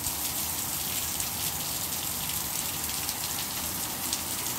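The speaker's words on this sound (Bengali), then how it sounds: "ভীষণ বৃষ্টি পড়তেছে।" A torrential June downpour in Goa drums constantly on surfaces, an unbroken, close hiss of heavy rain without any talking.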